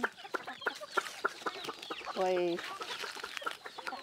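A flock of thirty-odd chickens at a home in Africa clucks in quick, repeated bursts close by, with one longer rooster-like call partway through and short spoken exclamations mixed in.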